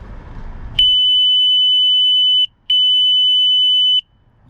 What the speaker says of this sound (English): when you press the test side, you're just going to get a beep letting you know that the system is working well